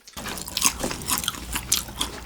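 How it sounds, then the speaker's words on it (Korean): Crunchy bites and chewing of Korean fried chicken wings with corn kernels, close to the mic, with crisp crackling snaps repeating every half second or so. "옥수수 알갱이가 바삭바삭 톡톡 터진다 진짜"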